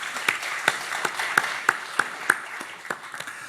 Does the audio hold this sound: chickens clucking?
no